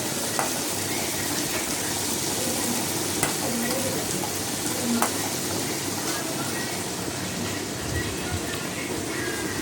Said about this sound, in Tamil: தக்காளியும் போட்டு இது எல்லாத்தையும் பார்த்திங்கன்னா நல்லா வதக்கணும்